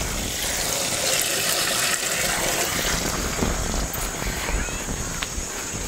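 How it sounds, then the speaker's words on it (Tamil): Water gushes steadily from the tap of a van's onboard water tank, a continuous close-up rushing flow that lasts throughout. "இப்போ இதை திறந்துட்டு அங்கே திறந்தால் தான் தண்ணி வரும்."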